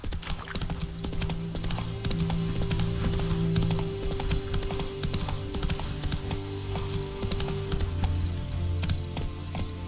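Hooves of Roach, the horse in Witcher 3, pounding in a fast, even gallop rhythm, close and prominent, with faint insect-like chirps and game ambience behind.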